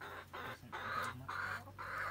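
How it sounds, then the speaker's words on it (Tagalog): Chickens at a hut in the Philippines cluck softly and close by in a quick series of short calls separated by brief gaps, with no talking. "Ayaw lumapit ng mga manok."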